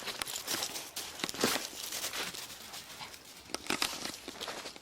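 A dog chews and mouths a flat, deflated basketball toy, producing quiet crinkling, crunching rubbery squeaks and scuffs in irregular bursts, close by and fairly soft.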